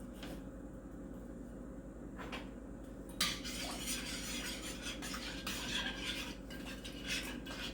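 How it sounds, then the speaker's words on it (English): A spoon stirs flour in a mixing bowl at home, giving soft scraping and clinking against the bowl. Brief knocks and rustles come close up under a low room hum, with no talk. "So you just stir it with a spoon?"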